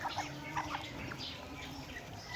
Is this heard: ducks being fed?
yes